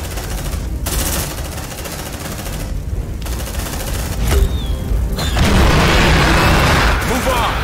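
A grenade blast in the sci-fi combat game Aliens: Dark Descent, a loud boom and rumble that rolls into heavy gunfire and chaotic battle noise lasting several seconds.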